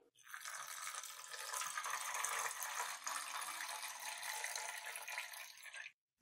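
Water streams steadily for about six seconds onto sugar in a pan for flour halwa, a soft, continuous splashing pour that starts and stops abruptly.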